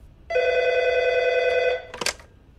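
A telephone rings once at a police station, a single steady electronic ring of about a second and a half, followed by a brief click as the receiver is picked up.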